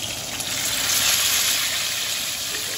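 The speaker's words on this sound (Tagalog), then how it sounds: "nakapagpainit na rin po ako dito ng mantika. So, iprito na po natin siya." Pork belly frying in hot cooking oil for lomi topping, a loud continuous hiss and crackle of sizzling fat, steady and close without any speech.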